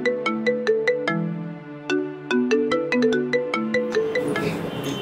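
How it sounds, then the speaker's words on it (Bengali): A mobile phone rings for an incoming call, playing a clear melodic ringtone of bright repeating notes in a steady pattern, fairly quiet and alone, with a rustling noise near the end. "আমার একটা কল আসছে, আমি একটু কথা বলে আসি"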